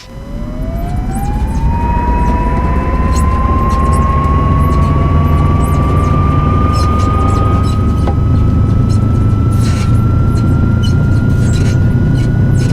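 A simulated aircraft engine in the X-Plane flight simulator starts up, its whine rising quickly and then holding as a steady loud drone over a heavy low rumble.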